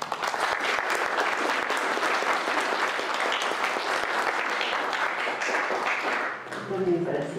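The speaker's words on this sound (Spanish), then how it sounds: "les pido un aplauso para Stéphane" Sustained applause from an audience fills the room, a dense steady clatter of many hands that fades slightly near the end.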